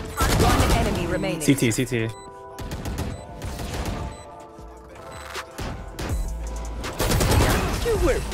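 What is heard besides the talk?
Bulldog rifle gunfire in Valorant video game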